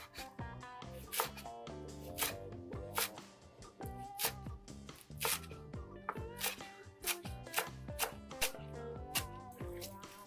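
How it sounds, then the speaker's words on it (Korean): A knife shredding perilla leaves on a cutting board for a topping, heard as a rapid run of close, crisp slicing taps and soft knocks, fairly quiet but steady. "물이 끓는 동안 깻잎을 채 썰어 토핑에 사용할 겁니다"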